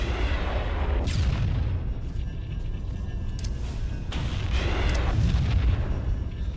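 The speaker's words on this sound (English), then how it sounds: "I go trying to blow up the Wraith with the rocket launcher" Rocket launcher blasts hit a Wraith tank in the video game Halo: Combat Evolved, heavy booming explosions rolling over a dense roar of battle noise, two big bursts standing out around the start and later on.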